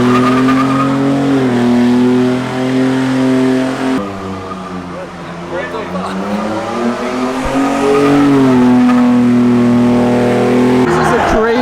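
An all-wheel drive Ford Bronco skidding with loud, sustained tire squeal rising and falling in pitch over a revving engine, close and continuous, with a voice speaking over it.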